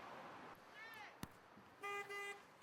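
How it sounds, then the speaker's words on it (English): Car horns honk at a city intersection during rush hour, a couple of short toots followed by a longer, louder blast over steady traffic noise. "it's a tradition every Wednesday at rush hour to honk your horn on your way through this intersection"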